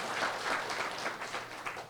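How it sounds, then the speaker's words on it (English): Brief, moderately quiet applause from a lecture audience at a book-launch talk, steady clapping that holds for about two seconds. "Let's have a round of applause."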